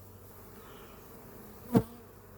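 A steady, low hum of honeybees at a hive runs throughout, with one short, louder burst of buzzing close by near the end.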